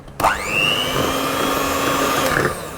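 Electric mixer whirring steadily as it blends baking powder and salt for a coconut loaf, a sustained motor whine starting abruptly and holding close and loud without talk.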